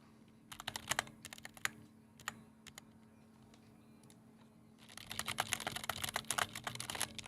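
Keys clatter on a computer keyboard in sparse bursts of close clicks, then break into fast, continuous typing toward the end, fairly quiet throughout with no talking.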